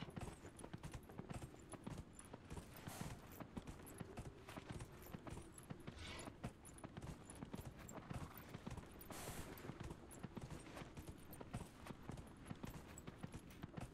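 Horse hooves clip-clop at a steady trotting rhythm as a mount is ridden in the video game Dragon Age: Inquisition, continuous and fairly close with no talk over it.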